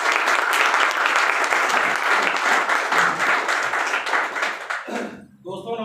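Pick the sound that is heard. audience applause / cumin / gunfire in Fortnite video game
audience applause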